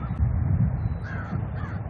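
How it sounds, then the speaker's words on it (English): Crows caw along riverside trails by the Clark Fork in Missoula, Montana, under a rumbling, wind-buffeted outdoor background that nearly buries the calls. "it's nice to hear crows again"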